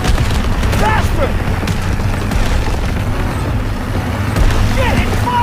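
Enemy fire and explosions in Call of Duty: WWII make a continuous low rumble with heavy booming under engine-like noise and shouting voices throughout, with no distinct separate shots.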